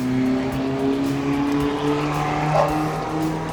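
Race cars lapping a track course at an SDC Racing event, engines droning steadily and loudly throughout with a brief higher whine near the end, no talk.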